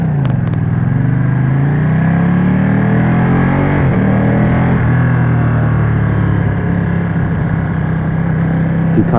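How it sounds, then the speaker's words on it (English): A Ducati Streetfighter engine drones steadily while riding, close and loud, with a sustained rumbling tone that shifts slightly in pitch and is mixed with rushing wind. "Ducati, you sound so good"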